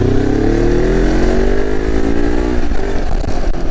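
A Morbidelli T252X motorcycle engine revs hard above 5000 rpm, a loud, close, steady mid-pitched drone climbing smoothly in pitch with no talk over it.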